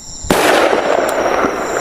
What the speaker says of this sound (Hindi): उसी वक्त गोली चला दी